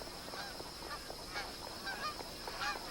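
Geese honking at a billabong, several clear calls scattered over steady ambient background noise, moderately distant and alone without talk.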